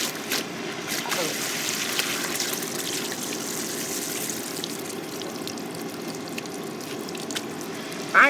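Water runs steadily from a hose or tap while washing an RC trailer outdoors, a constant soft gushing hiss with no talking and a brief louder burst at the very end.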